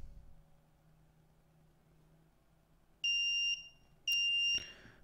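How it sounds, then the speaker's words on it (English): An Attiny85 countdown timer with a 64x32 OLED sounds its alarm at zero: two loud, shrill electronic beeps, each about half a second long, separated by a short pause, over a quiet room. "I can stop beeping by pressing any button."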